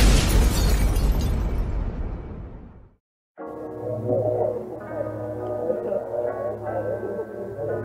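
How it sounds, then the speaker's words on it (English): A loud, heavy boom from a paintball cannon during a magfed paintball game erupts and roars for a few seconds before cutting to silence, then a lower rumbling hum with faint voices follows. "Boom! From the cannon"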